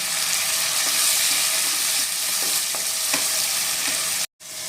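Ground onion paste frying in a pan for Bengali katla fish kalia, a loud continuous sizzle with faint stirring clicks, briefly cut off near the end.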